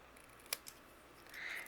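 Scissors trimming a paper cut-apart for a greeting card, a couple of faint crisp snips followed by a soft rustle of paper, quiet and close.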